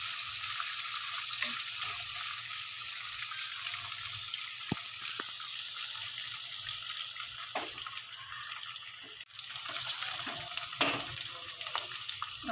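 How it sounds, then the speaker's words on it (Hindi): Coconut, almonds and raisins fry on a low flame in a pan, giving a steady soft sizzle with occasional faint stirring clicks throughout. "अब मैं इसको लो फ्लेम पर जो है थोड़ी देर के लिए फ्राई करूँगी"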